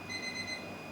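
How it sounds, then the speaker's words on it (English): A kitchen timer rings with a steady high electronic beeping tone, faint and continuous through the short moment, no talk. "I just have to go and see to that timer."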